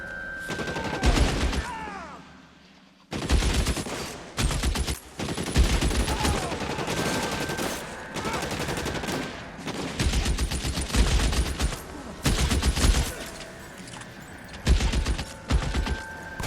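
Gunfire in the L.A. Noire video game, heavy clustered volleys of shots in repeated bursts with brief lulls, loud and close, with faint voices mixed into the battle.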